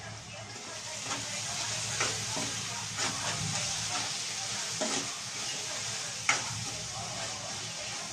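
Egg curry masala of chilli powder and coriander powder stirred in a pan, soft continuous sizzling with a few sharp scrapes and clinks of the spoon at intervals, fairly quiet.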